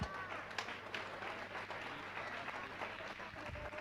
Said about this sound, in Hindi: तालियों का आदान दीजिएगा